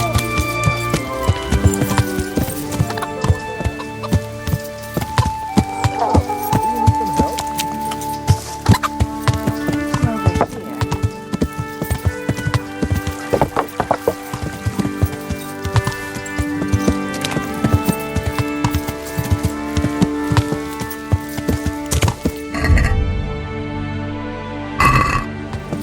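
Horse hooves clip-clop steadily in the medieval video game Kingdom Come Deliverance, a continuous rhythmic trot mixed with dense game music and ambient sound across the whole stretch.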